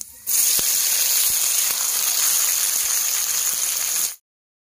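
Chopped onion hitting hot oil in a pan for Bengali chicken kosha, a loud, steady hiss and sizzle that holds evenly for about four seconds, then stops abruptly.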